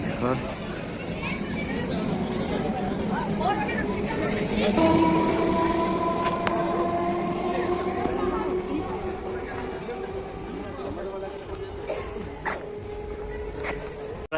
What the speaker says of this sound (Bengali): চলে আসলাম, এইমাত্র ট্রেন গেল